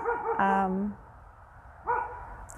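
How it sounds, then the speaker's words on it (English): A neighbor's dog barks outdoors in a backyard, giving one fairly loud, close bark with a whimpering tail, then a shorter second bark after a quiet pause. "sorry, my neighbor's dog is barking"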